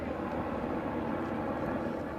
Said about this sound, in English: All day, helicopters and boats have been returning to the port of Kalamata